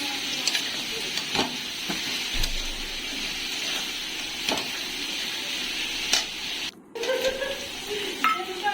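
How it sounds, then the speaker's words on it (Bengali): Potato pieces for a fish curry frying in a pan, a steady hiss of oil sizzling throughout with scraping stirs and a brief dropout near the middle. "মাছের আলুটা ভেজে নেব।"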